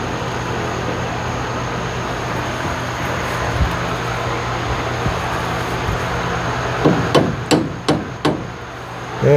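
A hammer drives a cut-out piece back into a tubular steel A-arm, giving four quick ringing metallic blows near the end after a long stretch of steady workshop background noise.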